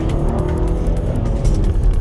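A 2011 Kia Sorento's 3.5-liter V6 revs hard, a loud, continuous low engine roar with a rough, snorty edge that holds steady throughout.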